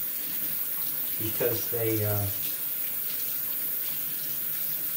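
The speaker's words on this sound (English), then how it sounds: "I would rinse for a lot longer than you think you should have to" Tap water running steadily to rinse harmonica parts, a continuous hissing splash under someone speaking briefly partway through.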